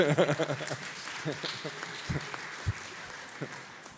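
Audience applause at an NGO consultation panel session on refugees, a moderate patter of clapping with voices talking over it throughout.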